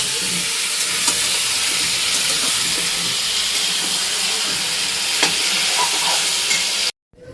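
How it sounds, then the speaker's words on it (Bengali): Meat being sautéed (kosha) in a pan, a dense continuous sizzle and hiss with occasional stirring scrapes, loud and close, cutting off abruptly near the end. "এই যে মাংসটা কষাচ্ছি, তো একটু আস্তে দিয়ে নিয়েছি।"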